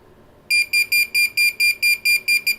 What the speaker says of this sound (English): it'll sound off when you get close